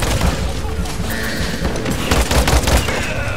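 Bomb blasts and weapon fire in the Paladins game, dense overlapping booms and crackling bursts, loud and continuous.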